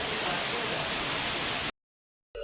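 Heavy monsoon rain with water flowing, a loud, steady broadband rush that cuts off abruptly into silence before briefly resuming at the end.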